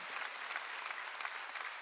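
Steady applause from a congregation during a Wednesday worship service in a church, dense clapping filling the room evenly without pause and no voices rising above it.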